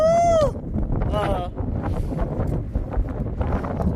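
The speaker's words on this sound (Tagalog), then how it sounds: "Ang lamig, ang lakas ng simoy ng hangin." Strong, cold wind gusts across the long jetty at Welshpool, Victoria, Australia, buffeting the microphone with a low, uneven rumble while voices whoop and call out over it.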